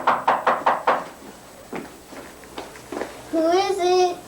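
Four quick, sharp knocks on a door open the scene, followed by a voice talking and a brief tonal chime near the end.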